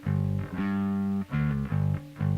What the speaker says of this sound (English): Clean fundamental low with the distortion lying on top.